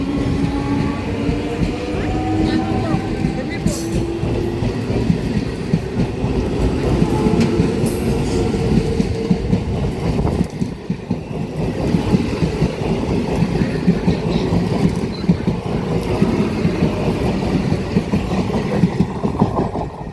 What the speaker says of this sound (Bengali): আর এই নতুন 3 ফেজ EMU রেকগুলোর অ্যাক্সিলারেশন যখন করে, তার মোটর কারের যে সাউন্ডটা অসাধারণ লাগে।